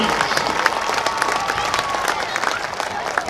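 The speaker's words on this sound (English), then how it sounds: "Let's give one more round of applause for our Jackson Middle School 8th grade band and our Pee Wee auxiliaries." A stadium crowd applauds a middle school band at a high school varsity football game, steady broad clapping and some cheering spread across the stands for the full stretch, with a faint tone threading through.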